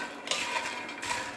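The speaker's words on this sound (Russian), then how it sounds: "Жарим, пока они полностью не высохнут и не начнут хорошо хрустеть." Seasoned bread croutons sizzle and crackle as they dry and crisp in a frying pan, a dense steady crackling close by with a few small clinks, no talk.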